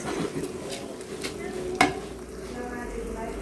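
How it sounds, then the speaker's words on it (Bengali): Rice is fried in a pot and stirred, giving a moderate ongoing sizzle with scraping strokes and one sharp metallic clink of utensil on the pot. "চাল ভাজা হয়ে গেছে।"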